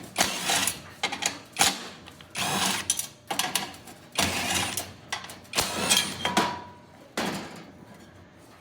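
Powered screwdriver backing out screws from a convection fan bracket on an Austroflamm/Rika pellet stove, several whirring bursts of a second or so with short pauses, close and loud.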